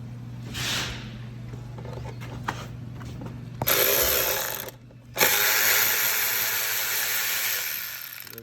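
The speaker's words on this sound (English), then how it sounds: "we're just going to take out all the bolts that we see on the timing cover" A power tool spins out the timing cover bolts on a Honda J35 3.5L engine during a timing belt and water pump job, giving steady whirring bursts with a short pause between runs.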